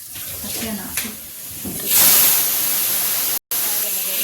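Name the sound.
rice flour fare frying in a pan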